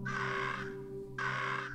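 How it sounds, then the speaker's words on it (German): Two harsh cawing calls from small birds in the video game Monument Valley, sounding over a steady tonal game music backdrop, with a short gap between them. "So, hier sind wieder zwei kleine Vögel."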